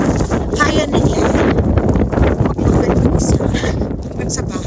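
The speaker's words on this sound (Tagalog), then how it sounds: "Kasi ang lakas ng hangin." Strong wind roars without a break during a Canadian snowstorm, a loud rushing buffet across the microphone with faint scraping underneath.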